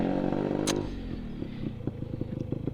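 A Yamaha RX two-stroke motorcycle engine hums while being ridden, first a louder burbling drone that drops to a lighter, uneven putter with a few sharp pops near the end.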